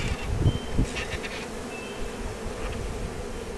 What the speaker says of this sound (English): There's gotta be 3-4 pounds of bees there.